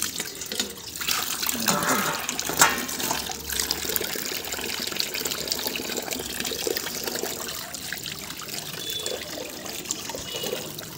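Tap water runs steadily into a bowl set out for an animal to drink, a continuous broadband splashing rush lasting throughout at moderate loudness with no voices.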